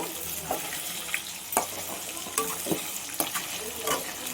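Tuna fish pieces fry in a pan for pickle with a moderate, steady sizzle broken by scraping turns and sharp spatula taps, fairly close and without talk.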